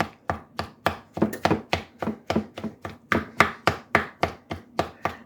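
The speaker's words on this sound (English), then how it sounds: "to chop those down a little bit" Soft-cooked food is chopped into smaller pieces on a board, with about sixteen crisp, evenly spaced knife strikes landing close and clear.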